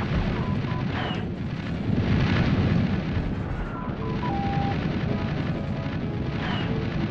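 Explosions from a bombing run in the space combat game Wing Commander III, a continuous rumbling roar of blasts and booms with dull bursts layered over a steady low engine drone.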